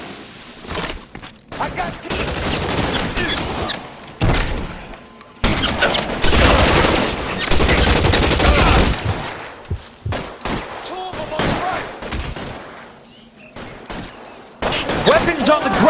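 Gunfire in a shootout from the crime game L.A. Noire, dense bursts of rapid shots and heavy booms crackling in waves, with a short pause midway, loud and close, while someone speaks briefly between volleys.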